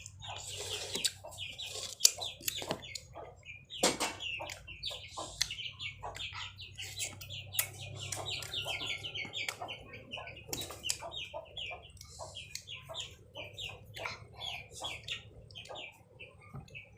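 Chicken clucking in a kitchen: a steady run of short, sharp clucks and chirps close by, with a low hum underneath and no talking.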